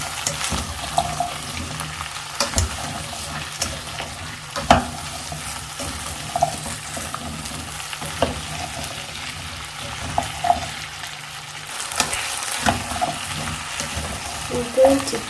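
Breakfast food frying in butter in a pan, a steady sizzle running throughout with scattered scrapes and clinks as the pieces are turned, with occasional faint talk.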